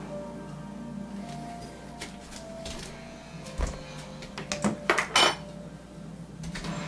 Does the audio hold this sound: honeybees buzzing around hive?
no